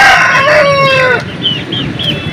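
A rooster at a busy chicken market crows loudly and close, one long strained call lasting about a second, followed by a few short higher calls from other birds.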